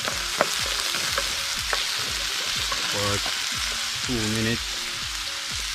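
Okra sizzling as it sautés in a pan during outdoor riverside cooking, a steady close frying hiss with occasional clinks and scrapes as it is stirred, while a voice talks briefly.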